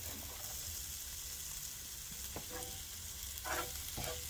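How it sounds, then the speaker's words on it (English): White parts of green onions sizzle in a hot pan for spicy eggplant and tofu in garlic sauce, a steady close frying hiss broken by a few brief stirring scrapes. "Now I'm going to add the white part of the green onions."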